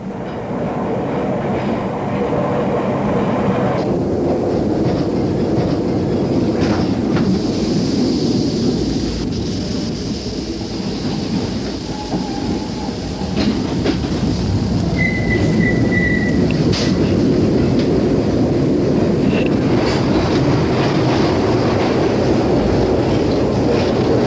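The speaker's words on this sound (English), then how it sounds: "as the train passes under the Clyde" A Glasgow Underground train rumbles loudly and continuously through a tunnel under the River Clyde, with rattling clatter, a few metallic squeals and brief electrical crackles as the pickup loses contact with the rails.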